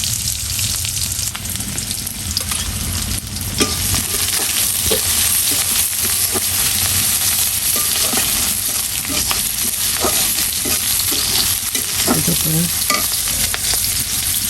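Onion and garlic fry in a hot pan with a steady, dense sizzle while a spoon scrapes and stirs at irregular intervals, close and fairly loud throughout with no talking.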